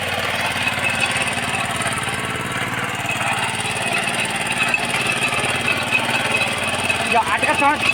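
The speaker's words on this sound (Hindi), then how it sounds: "गाइस ये अब ट्रैक्टर को ऊपर वाले खेत में ले जा रहे हैं।" A small tractor engine runs steadily in hillside mountain fields, a continuous loud mechanical drone with a rough, choppy texture throughout, while people talk in the background.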